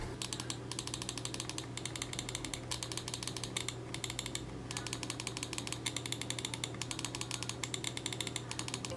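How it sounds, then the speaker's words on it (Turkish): Buttons on a Rampage Specter wireless gaming mouse click close up, one after another in small quick clusters. Each click is crisp and light, and there are brief pauses between the runs over a faint steady hum. "Mouse'un sesinin ASMR'ı."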